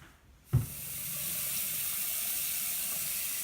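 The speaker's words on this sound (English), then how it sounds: "Draining a whole lot better than the other one." Water gushes steadily down a bathroom sink through a newly fitted pop-up drain assembly, starting with a sudden rush after a brief quiet moment and holding a constant loud hiss, with no talking.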